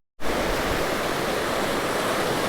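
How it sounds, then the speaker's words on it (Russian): The Shaukol mountain river rushes in a valley near the Shaukam pass, a loud, steady broadband roar of flowing water that starts abruptly and continues unbroken. "А вот и сама горная река Шаукол."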